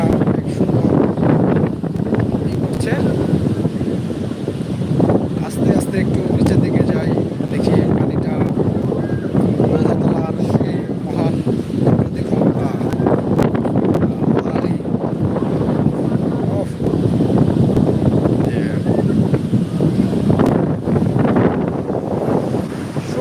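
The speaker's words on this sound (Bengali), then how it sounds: "সমুদ্র মানে এটার গর্জনেই মন ভরে যায়" Loud, steady roar of sea surf at Cox's Bazar beach, continuous wind-blown wave noise filling the whole stretch, with a crowd of beachgoers and voices mixed in.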